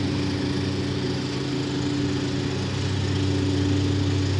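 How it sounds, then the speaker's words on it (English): A lawn mower engine drones steadily and loudly nearby, a constant buzzing hum without pause. "lawnmower noise in the background."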